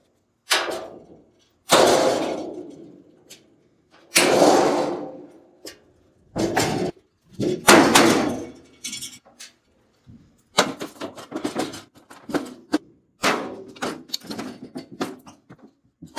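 Welded aluminum scrap being broken apart by hand, loud clanging and thudding impacts in irregular bursts separated by short pauses, with quicker rattling knocks toward the end.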